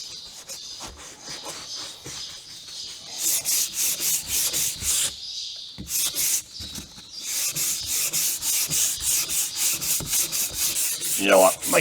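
A sanding block being rubbed by hand over body filler on a Volvo 240, a close, loud rhythmic scratching of steady back-and-forth strokes with a brief pause midway.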